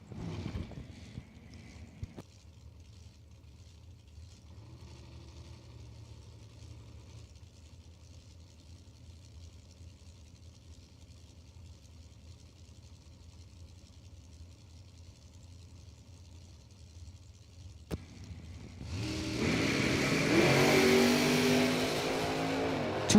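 Supercharged drag racing cars at a drag strip: a low, distant engine rumble idles for a long stretch, then a loud roaring launch bursts in near the end and holds at full volume.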